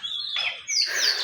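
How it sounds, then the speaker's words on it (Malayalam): Birds chirp and tweet in the early morning outdoors, a run of bright overlapping calls that swells louder toward the end, with no talking. "എന്താ രസമല്ലേ കിളികളുടെ സൗണ്ട് ഇങ്ങനെ രാവിലെ ഈ നേരത്തോടെ ഇതിൻ്റെ ഒച്ചമ്പിളി."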